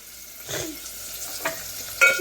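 Tomato dropped into hot oil in a home kitchen pan, giving a soft sizzle with a few stirring scrapes and brief bursts, faint and close with no voices.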